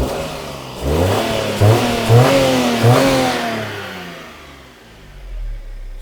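A Daihatsu engine running on new oil revs up in a few quick bursts, then settles back toward idle and fades. The engine is heard close and alone.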